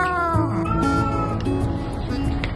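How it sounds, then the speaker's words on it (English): A cat meows repeatedly in a clear, rising and falling series of calls, close and loud, with no talking over it. "He has a different meow for everything."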